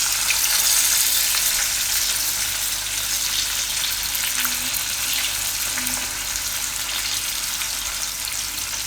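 Whole red chillies stuffed with garlic masala fry in hot oil, a steady close sizzle and crackle running throughout with no talk, the occasional soft clink of a utensil turning them.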